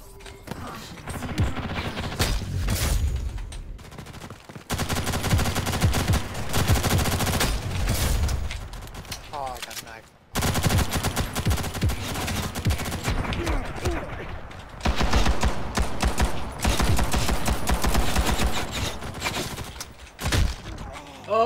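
Gunfire from the online shooter Ghost in the Shell: First Assault, with dense rapid automatic bursts and overlapping shots crackling loudly and nearly nonstop, a brief lull near the middle, and a voice talking underneath.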